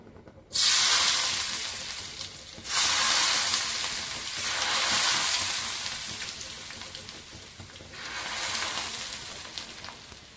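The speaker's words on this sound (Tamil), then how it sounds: "இந்த எண்ணெயும் அதில் ஊற்றிடலாம்." Hot oil poured over mango pickle made with chilli powder, giving a sudden loud hiss and sizzle that swells in several waves, then settles into a steady crackle.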